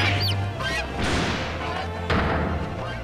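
Comic duck honks from The Great Ace Attorney, several loud nasal honks in quick succession with a crash-like burst, set against steady game background music.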